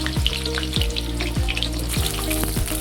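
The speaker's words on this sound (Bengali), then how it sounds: "তেলটি ভালোভাবে গরম হয়ে যাওয়ার পর কেটে রাখা বেগুনগুলোকেও দিয়ে দিলাম" Cut eggplant pieces frying in hot oil in a wok, giving a steady, dense sizzle that carries on without a break, close and fairly loud, with no voices.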